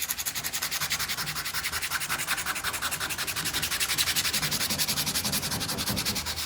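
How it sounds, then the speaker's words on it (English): Sanding a Jeep TJ front fender before body filler goes on, a rapid rhythmic rasping scrape that repeats steadily and close up, with no voices. "And then I'm gonna sand all this too, just to make it all as smooth as can be"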